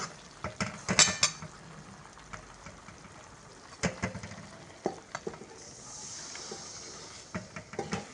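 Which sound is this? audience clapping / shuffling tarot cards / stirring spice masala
stirring spice masala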